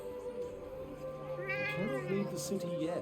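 A cat meows in the video game Forspoken, a few short wavering mews heard over a steady in-game ambient hum while a person talks.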